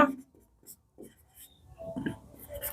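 Writing on a board during a Hindi-language Class 10 maths lesson, heard as short scratchy strokes in brief bursts, with a teacher speaking intermittently over them.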